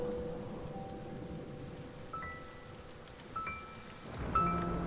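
Steady rain falls in the video game A Bird Story, a continuous soft patter with faint, brief chime-like tones rising over it.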